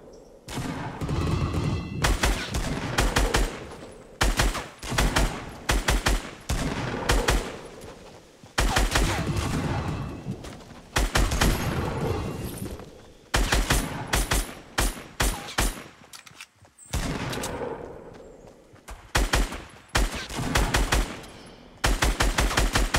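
Pistol gunfire in the Fortnite video game: loud, close bursts of rapid shots repeat throughout with brief gaps between volleys.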